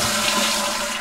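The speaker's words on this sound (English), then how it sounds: "flush the toilet" A toilet flushes with a brief, steady rush of water close by, with no talk.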